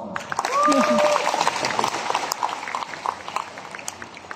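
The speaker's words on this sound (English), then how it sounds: "Must round of applause." An indoor audience at a market talk breaks into applause, a steady dense patter of clapping that swells quickly and holds for a few seconds with voices mixed in.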